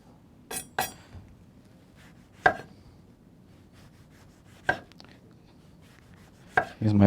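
A knife cuts a lemon into wheels on a cutting board as a garnish for linguine with clam sauce. Several sharp, separate chops land at uneven intervals, close and clear, with quiet pauses between them.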